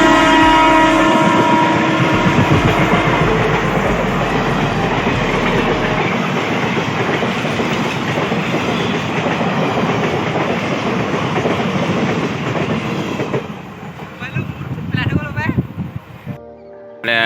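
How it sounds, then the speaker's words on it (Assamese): A train pulls into Silapathar station with a loud, steady rumble of wagons and rail clatter, its horn sounding near the start, before the noise thins out toward the end; faint voices are mixed in. "এইখন ট্ৰেইন আহি আছে।"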